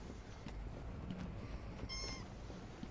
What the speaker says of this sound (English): every time that cat meows, TK gets a million views